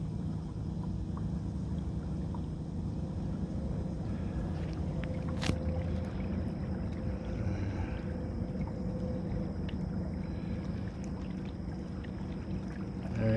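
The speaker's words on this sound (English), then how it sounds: "Speed up the boat, but I don't want to make too much noise." Small boat moving slowly and quietly across water past a still blue heron, a soft steady wash and low rumble with faint wind noise throughout and one brief sharp knock midway.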